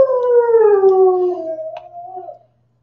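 A dog gives a single long, loud, close howl that slowly slides downward in pitch and fades out after about two seconds.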